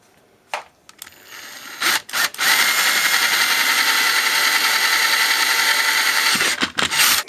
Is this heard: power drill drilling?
yes